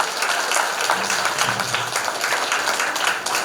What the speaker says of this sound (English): Let's give ma'am a big round of applause